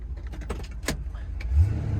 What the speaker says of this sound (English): The headlights pop up and down.